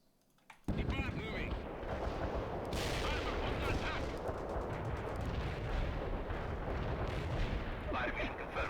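Heavy artillery barrage in the strategy game World in Conflict, a sudden onset of dense, continuous rumbling explosions and shell impacts that keeps on without a break.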